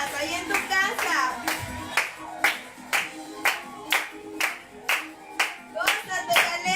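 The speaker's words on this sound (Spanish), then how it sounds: "Usa tus palmas ahí en tu casa." People clapping along in rhythm at a home worship service, about a dozen evenly spaced crisp claps over music, with a voice singing or speaking between them.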